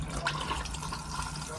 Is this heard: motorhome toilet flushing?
yes